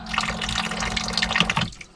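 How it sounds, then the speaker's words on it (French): Water pours steadily from a battery-powered electric kitchen faucet into a sink, a continuous splashing rush with a low pump-like hum beneath, cutting off near the end. "un joli évier, un joli robinet sur batterie électrique"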